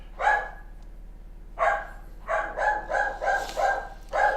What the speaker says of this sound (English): the dogs are barking because somebody knocked on my door